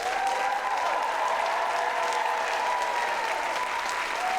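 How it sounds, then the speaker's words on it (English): Theatre audience at a community stage production applauding steadily, a dense continuous wash of many hands clapping at even loudness throughout, with a faint tonal hum underneath. "we'd like to give a round of applause to Aiden Adia,"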